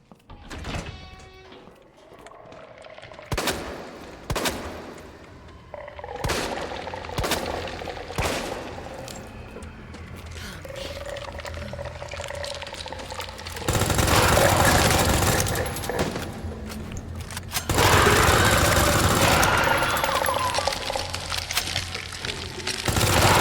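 Machine gun fire in a video game, bursts of rapid cracking shots separated by pauses, growing into long loud sustained volleys in the second half, with sharp impacts and clatter between.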